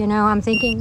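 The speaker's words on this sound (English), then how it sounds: "Oh, that was my phone, guys." A short, thin, high phone beep sounds briefly in the middle while a person keeps talking over it, the voice much louder than the tone.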